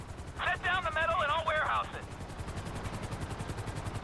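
Helicopter in GTA V, a steady rhythmic rotor chop and engine drone heard close, with a bright electronic warbling tone over the first two seconds.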